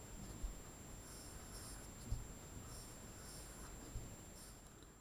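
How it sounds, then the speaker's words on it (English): A pencil drawing on paper gives a quiet, steady scratching with a few light taps of the lead, soft and close, with no talking. "you notice I'm drawing in pencil first"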